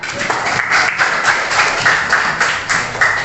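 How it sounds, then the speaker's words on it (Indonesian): Pupils in a classroom clap together for a classmate, a brisk, slightly uneven burst of many small hands close by, lasting a few seconds. "Tepuk tangan untuk Sera"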